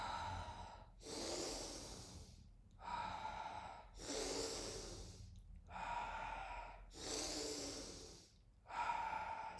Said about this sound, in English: Breathing in through the nose. You can breathe out through the mouth